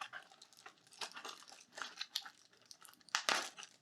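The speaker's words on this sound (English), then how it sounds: "So it's a little clamshell of plastic." Stiff plastic clamshell packaging for a Nikon lens being handled and opened, a close series of crinkling crackles and snaps ending in a sharper louder crunch, with no talking.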